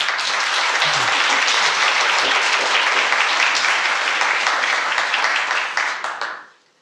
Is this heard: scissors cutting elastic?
no